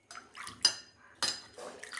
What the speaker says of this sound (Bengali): এই যে আমি ভালো করে ধুয়ে নিচ্ছি এটাকে